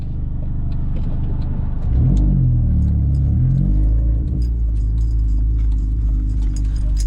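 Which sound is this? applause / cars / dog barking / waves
cars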